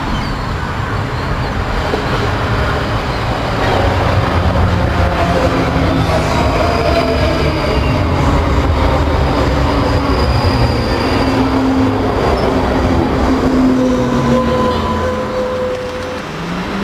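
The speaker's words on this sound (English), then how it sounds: "This is a train coming out of Glasgow and going up to Helensburgh Central." A passenger train, a Class 334 Juniper electric unit running from Glasgow to Helensburgh Central, rumbles past continuously, loud and close, with a steady roar of wheels on track and faint squeals rising over the din.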